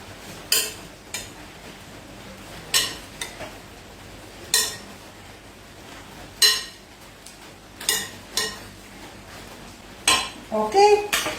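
Intermittent scraping and clinking of utensils against a dish as vegetables are tossed and mixed with oil for caponata, in short irregular bursts.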